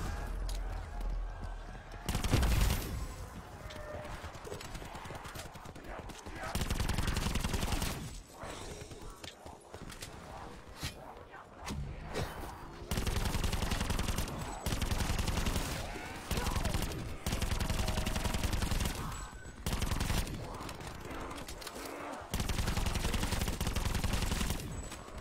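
Call of Duty Black Ops 4 Zombies gunfire on the Blood of the Dead map, repeated loud bursts of rapid automatic shots separated by short pauses, with a voice talking between volleys.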